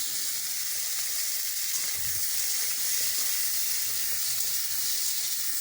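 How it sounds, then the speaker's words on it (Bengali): Beans stir-fried in oil in a kadai give off a continuous loud hissing sizzle, with occasional soft scraping as they are turned. "এবার আমি কড়াইতে তেল দিয়ে এগুলোকে নেড়ে চেড়ে ভেজে নেব"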